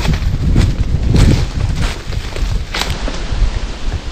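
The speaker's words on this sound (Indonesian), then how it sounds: "Angin kencang banget." Strong wind gusts blow outdoors through a banana and durian farm plot, a loud broadband rushing with buffeting bursts hitting the microphone, continuous throughout.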